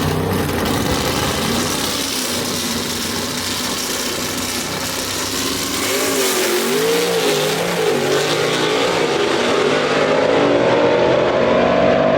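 Gasser drag race car at Shadyside Dragway, loud engine revving hard and sustained, pitch sweeping and climbing steadily as it accelerates away, no talk over it.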